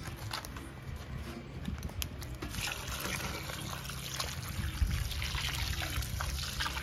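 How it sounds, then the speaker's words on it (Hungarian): Water is poured into a pot over cabbage and chicken, a steady trickling splash that runs on throughout with no voices. "föl fogom önteni vízzel, hogy éppen, hogy hát jó ellepje ezt a dolgot"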